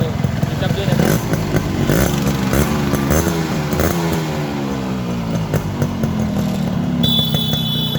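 Yamaha RX 100 two-stroke motorcycle idling nearby, a loud, buzzy, steady engine note with slight revving fluctuations throughout, running alone without talk.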